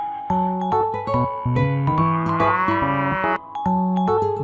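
A buffalo lows in deep, stacked calls that rise into a louder bellow midway. Music with layered tones plays underneath, loud and close. There is no talking.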